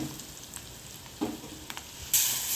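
Crushed garlic, cumin and ginger sauté quietly in a pan for tomato rasam, a soft low sizzle with occasional stirring scrapes and a brighter hiss rising near the end.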